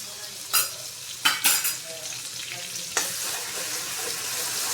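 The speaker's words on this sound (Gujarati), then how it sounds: "પછી 2 ચમચી આદુ મરચાં લસણની પેસ્ટ," Ginger, chili and garlic paste hits hot ghee and oil, giving short loud sizzling bursts followed by a steady, close frying hiss with light stirring clatter and no talk.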